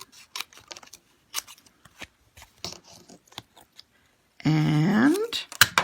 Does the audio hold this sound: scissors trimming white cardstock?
yes